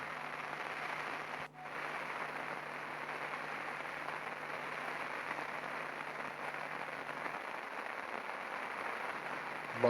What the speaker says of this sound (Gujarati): જિલ્લાભરમાં તમામ તાલુકાઓની અંદર વરસાદ વરસી રહ્યો છે